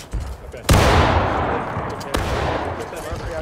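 Musket gunfire in the Civil War game War of Rights: two sharp shots, the first loud and close and followed by a long rumbling echo, then a second crack with continuing distant battle noise.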